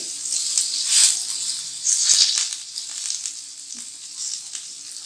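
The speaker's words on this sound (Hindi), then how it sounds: "इनको हल्का हल्का सा फ्राई करना है" Handi gola kababs fry lightly in a pan with a continuous close sizzle and crackle that rises and falls in gentle waves, plus a couple of faint stirring taps.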